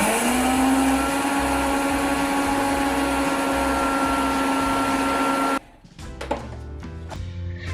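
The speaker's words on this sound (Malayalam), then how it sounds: "ഒരു മിക്സി ജാറിലോട്ട് നമ്മൾ വറുത്ത് വെച്ച അവലിട്ടിട്ട് ഒന്ന് പൊടിച്ചെടുക്കണം" A small mixer grinder jar grinds roasted poha with cardamom powder in a loud, steady whirring whine for about five and a half seconds, then cuts off, followed by a few clattering knocks as the jar settles.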